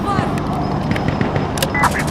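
Sustained minigun fire in the video game Insurgency Sandstorm, a rapid continuous rattle of shots with sharper cracks near the end, close and loud, while voices shout over it.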